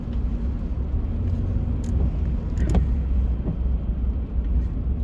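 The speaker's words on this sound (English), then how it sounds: "The trucks." Traffic rumbles past on a town road in Columbia, Tennessee, with a continuous low engine and tyre roar of trucks and cars going by, steady and fairly close, with no talking.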